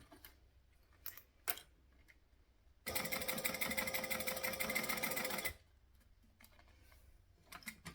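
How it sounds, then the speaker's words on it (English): Sewing machine stitching through double-sided tape while sewing a travel bag, a steady fast-ticking run of about two and a half seconds, loud and close, with faint handling noises before and after. "we don't want to go too fast because it is sewing through double-sided tape."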